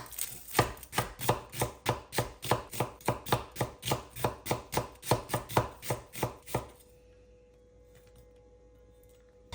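Onions being roughly chopped on a cutting board, a fast, steady run of about twenty sharp knife knocks close by, then stopping into near silence.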